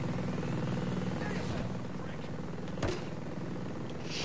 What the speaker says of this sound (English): we got more than one helo